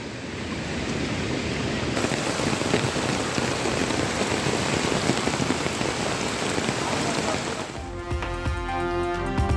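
Heavy rain pours down in Kodaikanal, a dense, steady hiss of falling water that fills the whole scene, with a brief change in tone near the end.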